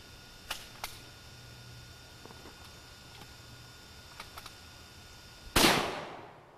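A firearm goes off once outdoors on a farm as a single loud, close blast with a ringing decay, preceded by a few faint mechanical clicks from handling.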